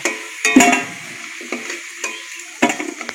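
Potatoes fry in oil for a country chicken curry, with loud metal spatula clanks and scrapes against the pan over a soft sizzle, in several close, separate bursts.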